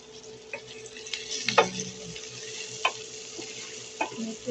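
Dried beans hitting a hot frying pan and sizzling while being stirred, with a steady hiss and scattered clinks and scrapes over several seconds, no talking.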